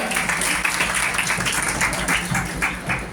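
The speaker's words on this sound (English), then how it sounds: "Please give a big round of applause to our sir." A crowd claps for a teacher at a Teachers Day celebration at a college, a loud, dense, continuous wash of hands that holds steady for about three seconds.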